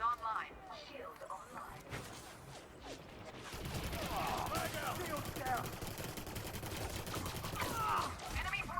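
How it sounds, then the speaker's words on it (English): A laser weapon fires in the space game Elite Dangerous: Odyssey, starting with a few scattered shots and then settling into a dense, continuous stream of rapid bursts that runs to the end. "there is a fair amount of recoil with this laser weapon for some reason"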